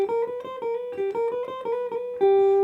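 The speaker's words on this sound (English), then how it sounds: "We're going to do a chromatic and then a hammer, and we get into a phrase that sounds like this." An electric guitar plays a minor blues lick, with a chromatic run leading into a hammer-on phrase. Clear single notes ring out alone, close and steady, ending on a sustained held note.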